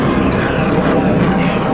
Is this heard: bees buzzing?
no